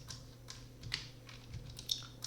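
Soft, scattered keystrokes on a computer keyboard as an SQL Server query is typed, quiet and close with irregular clicks and brief pauses, no talk.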